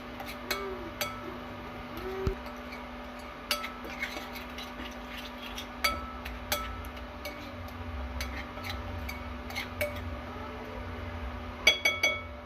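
Spice masala being mixed with edible vinegar in a bowl for spicy chicken wings, heard as soft, irregular clinks and scrapes of a spoon against the bowl over a faint steady hum, with no talking.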